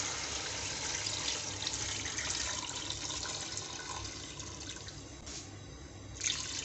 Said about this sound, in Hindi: अब मैं इसके अंदर पानी डाल दूँगी।